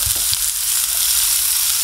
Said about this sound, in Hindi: अब इसी स्टेज पे मैं प्याज डाल दूंगी, जो मैंने ग्रेट करके रखा था